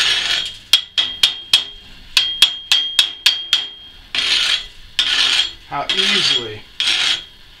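Slag knocked and filed off a 7024 electrode weld: a quick rhythmic run of sharp metallic strikes, followed by several longer, loud rasping scrapes up close, with a brief voice heard in between.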